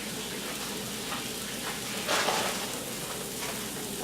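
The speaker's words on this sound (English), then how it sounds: "we got our shallots cooking and sauteing" Shallots sautéing in a pan for a lobster bisque, a steady close sizzle and crackle of frying, with a brief louder surge of hissing midway, with no voices.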